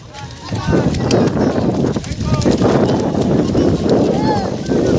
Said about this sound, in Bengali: দ্বিতীয় রাউন্ডে ঘোড়াগুলো অনেকটা আগে নিয়ে যাচ্ছে